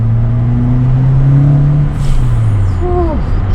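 A Ford Escort RS Turbo MK3 under acceleration, heard from inside as a loud steady engine drone whose pitch climbs then drops as it shifts gear, followed by a rising whine.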